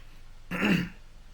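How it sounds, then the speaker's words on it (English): One person clears their throat with a single short, rough rasp, close and fairly quiet against a near-silent background. "I got to totally cough right now"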